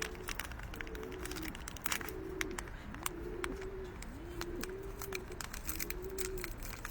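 Pigeons cooing in a repeated rhythm of about six low throaty coos, close and clear, over light background clatter and faint ticking; no talking.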